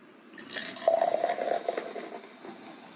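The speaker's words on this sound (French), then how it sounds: "petite ASMR avec les bulles" Marshmallow-flavoured soda fizzes in an opened can, a soft close-up crackle of bubbles that swells briefly and then settles into a faint hiss.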